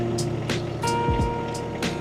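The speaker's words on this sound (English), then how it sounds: "Start your tractor back up, and we're going to raise the back up just a little bit here." A John Deere sub-compact tractor engine idles steadily close by, a low continuous mechanical drone with faint rhythmic clicks and no talk.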